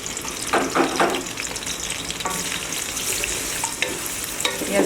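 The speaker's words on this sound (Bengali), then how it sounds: "তেলটা প্রায় আমার গরম হয়ে এসেছে, আমি পেঁয়াজ কুচিগুলো দিয়ে দিলাম" Chopped onions hit hot oil for a chicken akhni polau, giving a continuous close sizzle with scattered crackles and a few sharp clatters of stirring, no one speaking.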